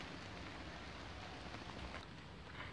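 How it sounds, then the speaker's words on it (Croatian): Rain beginning to fall outdoors during a metal detecting outing, a steady soft hiss of drops on the ground continuing evenly throughout, with no talking. "Evo i kiša počela padati."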